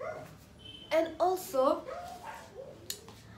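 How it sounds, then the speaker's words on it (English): A neighbour's dog barks a few sharp times at mid distance, the bursts rising over steady background talk from a person speaking nearby. "That's my neighbor's dog, by the way."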